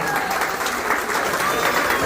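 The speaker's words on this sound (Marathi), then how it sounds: "जोरदार टाळ्यांचा गजर." Loud, dense applause at a baby shower ceremony fills the whole moment, many hands clapping at once with crowd noise mixed in.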